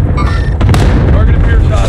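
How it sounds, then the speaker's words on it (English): An airstrike in Call of Duty Warzone lands with heavy booms that hit loud and close, followed by a dense, rumbling roar that fills the rest of the moment. "Designating airstrike target. This is Phoenix 3, strike inbound."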